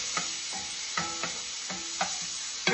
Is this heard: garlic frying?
yes